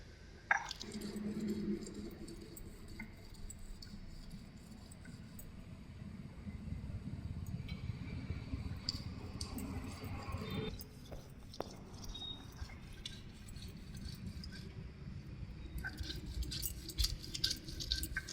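Peanuts, poppy seeds and chillies being ground by hand on a flat stone slab with a stone roller, a steady close scraping and squishing rub that continues throughout, fairly quiet, with a few light clinks.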